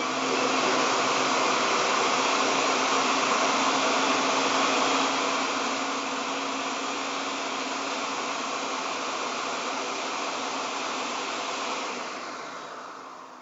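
A blender runs steadily on medium speed blending a fruit smoothie, a loud continuous motor whine and whir that holds for most of the stretch, then eases off near the end, with no talking.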